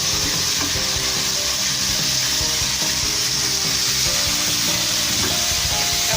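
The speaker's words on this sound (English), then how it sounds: "you can close it again for some few minutes and let it keep on frying" Pieces of broiler chicken fry in a pan for a wet fried chicken dish, giving off a loud, steady, dense sizzle with no talking.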